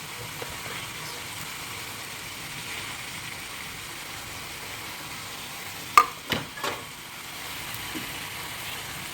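Kathari sev made from wheat flour dough fries in oil with a faint, continuous sizzle. A few quick clanks of a utensil stirring the pan stand out near the end.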